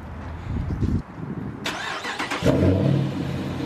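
A car with a 5.7 engine starting warm: a short crank followed by the engine catching into a steady, fairly quiet idle close by, with no talk over it.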